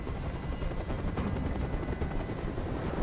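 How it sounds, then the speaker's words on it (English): Helicopter hovering overhead in the video game Detroit: Become Human, a continuous low rotor drone with faint rhythmic chop, steady and moderately loud, without talking. "Tell that helicopter to get out of here."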